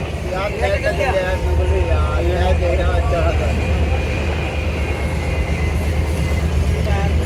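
The steady rumble of a moving train heard from inside a crowded Indian Railways general compartment, with voices chattering throughout over the constant low roar.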